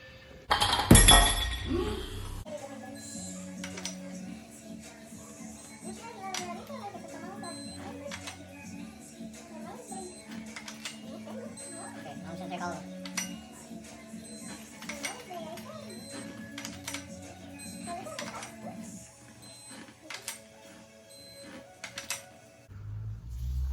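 A lightweight flywheel and clutch are fitted to a 1.6 Miata engine during a build, with sharp metallic clinks and taps at irregular intervals over a faint background hum. A louder rattling clatter opens the sequence.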